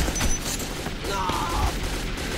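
Gunfire from the shooter Metro 2033 rattles off in a dense, fairly quiet burst of shots and mechanical clatter over a noisy in-game background, with a faint voice mixed in.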